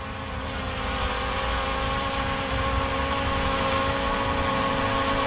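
Cheap brushless D6 Pro toy drone holding a steady hover nearby, its motors giving a constant whining buzz with a steady hum underneath, unbroken for the whole stretch and without any talk.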